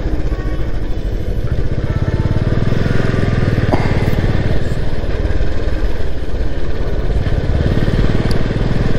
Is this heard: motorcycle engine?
yes